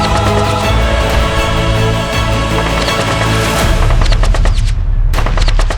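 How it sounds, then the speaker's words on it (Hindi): Sustained gunfire echoing through the rocky Aravalli hills during communal violence in Nuh, with rapid overlapping bursts and sharp cracks in a loud, dense volley, then a brief gap and more shots. "जब अरावली हिल्स गोलियों की तरतराहट से थर्रा गई।"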